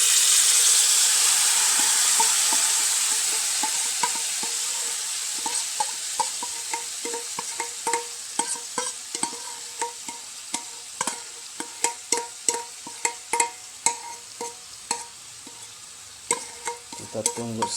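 Coconut milk residue stirred and fried in hot oil while making virgin coconut oil: a steady loud sizzle and hiss with repeated scraping stir strokes, becoming sharper and more rhythmic as it goes.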